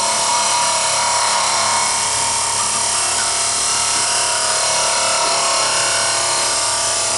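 A wood lathe spins a rolling pin blank while a turning tool cuts into the wood, giving a loud, steady, broadband whir and hiss that holds unbroken throughout.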